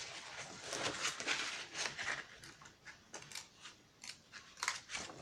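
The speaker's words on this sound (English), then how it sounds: "so we've got this U-shaped bit cut out from our patterned paper" Scissors snip repeatedly through patterned paper, close and crisp, in a steady run of short cuts with brief pauses and no talking.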